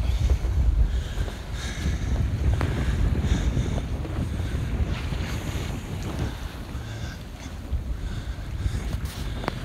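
Steady, strong wind roars across the microphone aboard a sailboat under sail in force 5 conditions, about 17 knots, off the Dodecanese islands, with water and hull noise mixed in and no voices.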